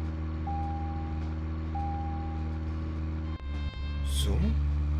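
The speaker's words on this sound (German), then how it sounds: "Machen wir wieder Rückwärtsgang" A vehicle reversing in the video game Deadly Premonition Origins: two long, steady electronic warning beeps over a constant low engine drone, followed by a brief clunk and a rising engine rev.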